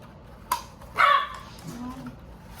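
Indoor dogs give a couple of sharp barks and yips, one short bark followed by a louder burst and a softer whimpering tail, fairly close with no talk over them.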